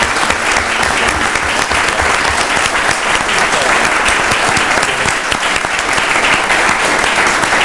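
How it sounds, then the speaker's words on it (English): Loud, sustained audience applause fills a room at a League of Women Voters trustee candidate forum, dense steady clapping from many hands with no break throughout. "And indeed, both the candidates and you deserve the applause."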